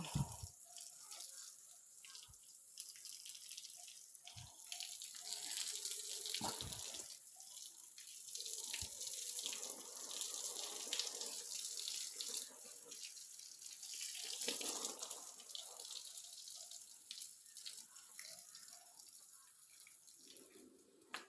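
Water runs from a detached pipe in a village kitchen area with a constant, quiet splashing hiss for about twenty seconds. A few sharp knocks occur near the start, and faint voices can be heard at moments.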